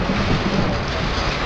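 Heavy rain pours down in a dense, steady roar during a thunderstorm outside a store, loud and continuous with a low rumbling underlayer and no voices.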